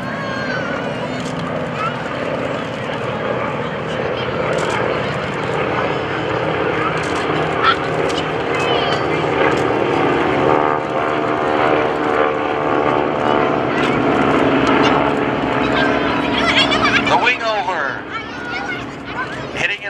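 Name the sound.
propeller airplanes flying overhead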